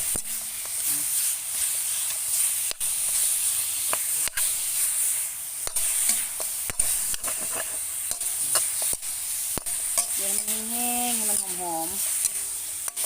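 Minced pork stir-frying for Thai bamboo shoot curry sizzles and hisses steadily in a hot pan, with repeated sharp scrapes and knocks of the stirring utensil and brief speech-like tones near the end.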